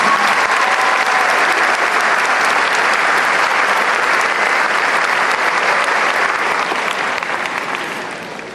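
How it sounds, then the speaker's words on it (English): A large audience at a graduation ceremony gives loud, sustained applause that holds steady for several seconds and then tapers off at the end. "So let's give Dr. Wiest a nice round of applause"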